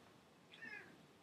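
A sleeping cat, disturbed and annoyed, gives one short, faint meow against a quiet room background.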